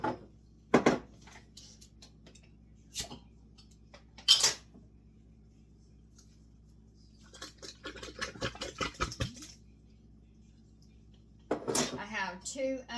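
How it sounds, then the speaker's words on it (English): Two jars of home-canned tomatoes go into a chili pot: sharp glass-on-metal clinks, then a stretch of wet plopping and scraping, separated by quiet gaps in a kitchen. "Alright, I'm going to add 2 jars of my tomatoes."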